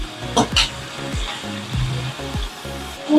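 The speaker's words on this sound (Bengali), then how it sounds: "প্রথমে দিয়ে দেবো আলু, পটল, গাজর, কারণ এগুলো একটু শক্ত তো, তাই এগুলো আগে একটু দিয়ে ভেজে নিই।" Chunks of potato, pointed gourd and carrot fry in tempering oil for a vegetarian shukto, a steady soft sizzle broken by scraping stirs of the pan, close by.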